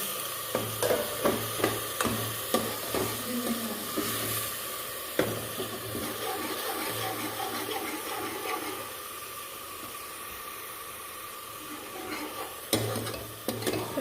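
Chopped onion roasting in a pan for aloo matar, stirred with a utensil: steady sizzling runs throughout, broken by repeated sharp scrapes and knocks of stirring, close and fairly quiet, with no talking.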